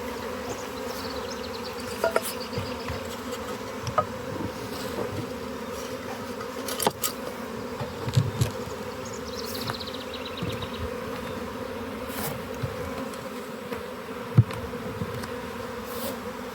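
A dense swarm of bees buzzes steadily and close, a constant droning hum with occasional louder passes of individual bees.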